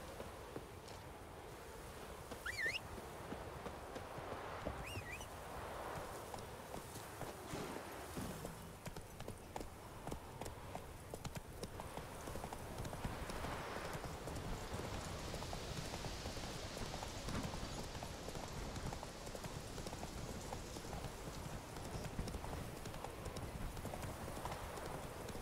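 Horse hooves gallop at a steady rhythmic clip-clop in The Witcher 3 game, a mount ridden through hilly countryside, continuous and fairly close under ambient game sound with no talking.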